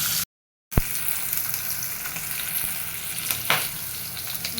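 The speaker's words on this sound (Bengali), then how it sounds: "মাছগুলো ভাজি হতে থাকে।" Fish fries in a pan with a continuous close sizzle, broken by a brief silent gap near the start, then a spatula scrape and a later stirring scuff.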